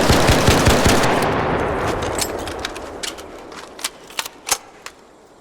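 Rapid automatic gunfire from a video game weapon fitted with a vertical grip, a dense burst of shots that thins out into a few sharp, spaced cracks and trailing echoes.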